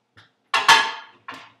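A plate holding pieces of fish is handled in a home kitchen, giving a few short clinks and scrapes of dishware, close and fairly quiet, separated by brief silences.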